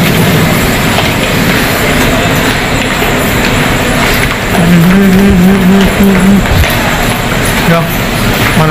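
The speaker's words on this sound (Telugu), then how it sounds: "మనం వచ్చిన ట్రైన్ అవుతుంది" A passenger train rumbles steadily, and a tonal whine rises midway like wheels squealing on the rails. People talk over the noise.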